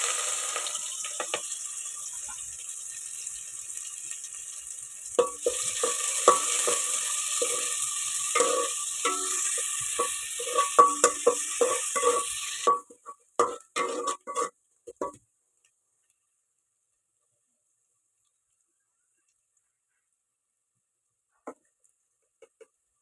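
Bottle gourd curry sizzling and frying in a pan with stirring scrapes for about twelve seconds, then a few clatters before the sound stops into near silence.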